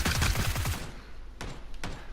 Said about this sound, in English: from his gunfire I know where he is